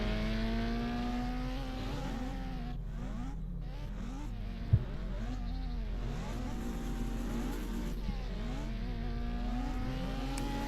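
A Renault race car drives an autocross course at the 2022 Patriot Grand Prix, its engine revving up and down repeatedly through gear changes, moderately distant and steady over faint outdoor ambience.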